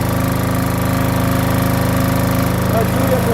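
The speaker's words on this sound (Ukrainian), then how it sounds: "Генератор запустили, підключайте." A SENCI SC7500Q portable generator, a 2023 unit, runs at a steady drone with a regular pulsing engine beat, loud and close, while a few faint sounds and voices rise briefly near the end.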